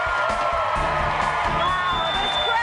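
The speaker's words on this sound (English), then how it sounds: "Wow, this crowd is crazy tonight" A studio audience at The Biggest Loser finale, broadcast live from Hollywood, cheers and whoops in a loud, dense roar that fills the whole moment.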